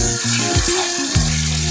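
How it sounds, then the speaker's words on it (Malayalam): Chicken frying in hot oil in a large copper pot for mandi, a steady loud sizzle with bubbling and stirring, no talking. "ഇനി നമ്മള് ചിക്കൻ പൊരിക്കാൻ പോവാട്ടോ"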